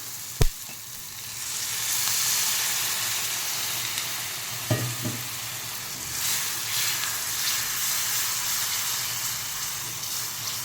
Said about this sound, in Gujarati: હવે એમાં થોડુંક પાણી એડ કરી દેવાનું.